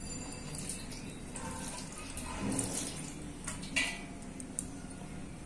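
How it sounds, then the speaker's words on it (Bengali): Water with ghee, honey and Ganges water is poured to bathe a deity idol in panchamrita, a soft continuous trickle and splash with a few small clinks of vessels. "গঙ্গা জল, ঘি, মধু, এই যে সবকিছু দিয়ে একটু স্নান করিয়ে নিলাম।"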